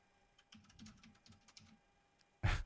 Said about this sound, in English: mechanical keyboard in action